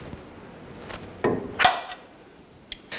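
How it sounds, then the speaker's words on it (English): A wrench working on a lower control arm bolt of a 2009-2015 Honda Pilot, two or three brief metallic clanks and a faint later tap in a quiet garage, close by and without talking. "In our case here, we're going to use our wrench. We're going to tighten that down."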